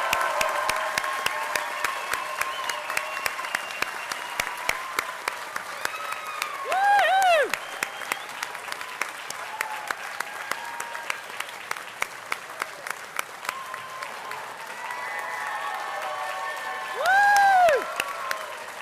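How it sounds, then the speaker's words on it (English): A large audience at a health sciences university white coat ceremony gives a long, sustained round of applause, dense even clapping across the whole stretch with brief louder cheering swells. "get one more giant round of applause"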